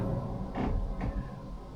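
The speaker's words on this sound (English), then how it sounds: "you get quite a sound and a few creaks coming from the organ, but that's its initial blast of air going through to kind of fill it up" An old church organ in Brantingham creaks twice as the first blast of air fills its pipes and bellows: two short, dull wooden groans over a low steady rumble.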